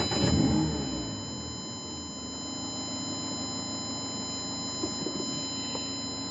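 A gasoline car with a manual transmission and no hybrid system starts up with a brief burst at the outset, then settles into a steady, low, fairly quiet idle hum that holds for several seconds with no talking.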